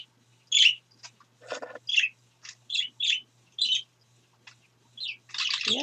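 Small pet birds chirping nearby, a series of short, bright, separate tweets and squeaks with quiet gaps between them and a faint low hum underneath.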